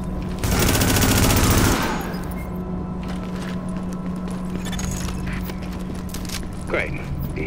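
Gunfire from The Division video game, a dense rapid burst of automatic fire lasting about a second and a half, then a steady ambient background with faint distant shots and a brief later thump.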